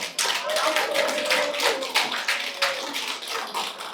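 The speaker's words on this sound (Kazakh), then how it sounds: "Өздеріңізге қол шапалақтаңыздар." Audience applause at a Greenleaf marketing event in a hotel hall, a dense, sustained clapping of many hands that fills the whole stretch with uneven swells.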